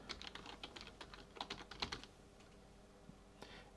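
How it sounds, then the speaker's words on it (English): A password typed on a computer keyboard: a quick, irregular run of close key clicks, denser at first, then a few scattered taps, quiet and alone. "need to type in a password"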